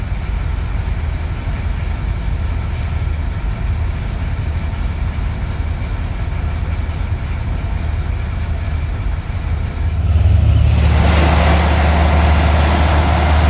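A track hoe excavator's engine runs steadily while the machine moves, a continuous low mechanical drone that grows slightly louder and heavier near the end, with no talking.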